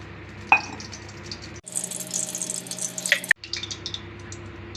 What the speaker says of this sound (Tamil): ஸ்டவ் பற்ற வச்சு கடாயை வச்சுட்டுங்க. ஆயில் ஊற்றிக்கலாம்.